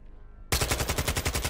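Automatic gunfire in the video game Warzone: after a short quiet lead-in, a loud rapid burst of about a dozen evenly spaced shots rattles off close by.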